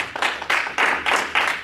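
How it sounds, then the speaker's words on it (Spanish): Congregation applauding the Lord during a church sermon, a few loud bursts of clapping rising and falling in waves, close and without talk. "Denle un aplauso al Señor."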